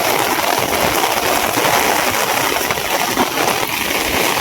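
Heavy rain with strong wind pours down in a dense, steady hiss that stays loud and unbroken from start to finish.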